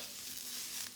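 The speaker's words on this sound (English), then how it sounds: "Just flick that around and flash fry" Cabbage and mixed vegetables flash fried in a hot pan for crispy noodles, a steady close sizzle with light stirring and tossing throughout.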